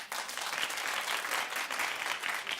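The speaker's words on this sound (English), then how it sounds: "clap if you watched." Studio crowd at a comedy talk show applauding in a dense, continuous patter of many hands, steady and fairly quiet, heard alone without talk.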